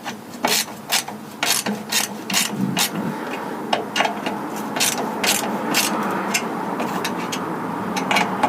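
Ratcheting wrench clicks in repeated short bursts while a 13 mm exhaust clamp nut on a flexi downpipe of an Astra H is tightened, close and fairly loud, with scraping metal between strokes.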